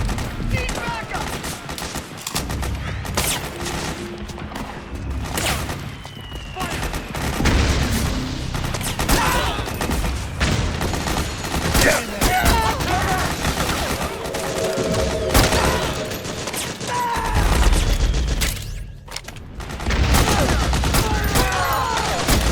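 Gunfire rattles through a battle in the video game Metal Gear Solid 4, dense bursts of automatic fire and booms, loud and continuous, with shouted soldier voices over the shooting.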